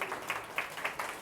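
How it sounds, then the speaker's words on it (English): Brief burst of audience applause at a realtor event, rhythmic clapping from a modest crowd at moderate volume, heard alone. "give him a round of applause."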